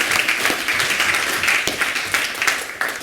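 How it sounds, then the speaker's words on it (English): An audience at a Linux conference talk claps for a development team, a steady dense wash of applause with a few sharper individual claps, fairly loud and continuous throughout. "Can I have a round of applause for the development team,"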